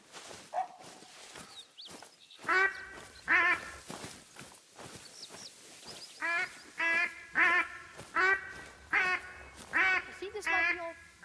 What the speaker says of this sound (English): What a duck call.